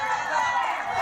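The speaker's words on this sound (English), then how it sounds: "We're starting to hear the crowd more now." A crowd murmurs and stirs steadily at a women's cornhole final at the Canada Open, a continuous moderate wash of many voices with no single standout cheer.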